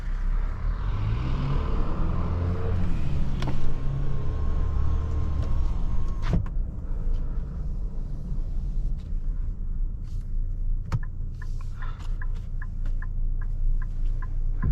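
Inside a 2027 Infiniti QX65 Sport on the move, a steady low engine and road rumble persists throughout, with a sharp click partway through and lighter ticks later.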